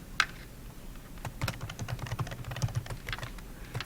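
A password is typed on a computer keyboard as a quick run of soft, close key taps in an irregular rhythm, quiet and without speech.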